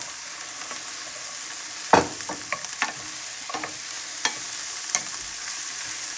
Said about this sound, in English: And we're going to add our onions.